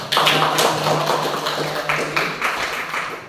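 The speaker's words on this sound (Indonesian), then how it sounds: "berikan aplaus untuk kita semua" An audience in a classroom session applauds together: a close, brisk burst of clapping that carries on steadily for a few seconds with slight rhythmic taps.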